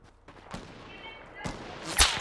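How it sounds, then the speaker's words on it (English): Sniper rifle shots in the Fortnite video game: three sharp, loud cracks about a second apart, the last the strongest, over low game ambience. "I'm getting sniped at."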